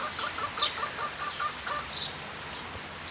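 Hen clucking to announce a laid egg, a series of faint, rhythmic clucks and higher squawks heard at a distance over quiet outdoor background.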